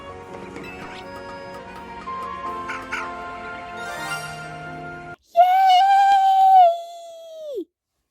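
A dog-like Pokémon in the video game Pokémon Legends Z-A gives a single loud, drawn-out tonal yelp that falls off at the end, following a stretch of game music and effects.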